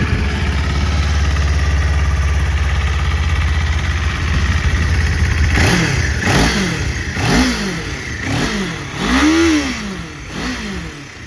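Kawasaki Ninja 500 motorcycle engine idling steadily up close, then revved several times in rising and falling blips during the second half, with no talk.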